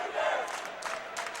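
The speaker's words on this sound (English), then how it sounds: "the crowd's making noise back and forth" A crowd in an arena at a men's college volleyball match, Loyola against BYU, makes a steady roar with bursts of cheering swelling and fading in waves.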